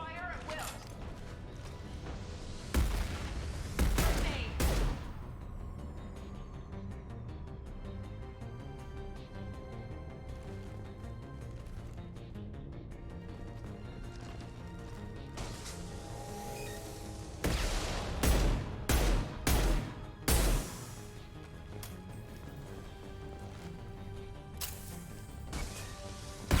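Gunfire bursts in the video game Mass Effect 2 come in two loud clusters of rapid shots and booms over a steady game soundscape of hum and mechanical creaks.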